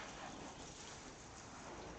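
Water sprays steadily from a hose nozzle on its shower setting outdoors in hot weather, a constant close, even hiss with no talking.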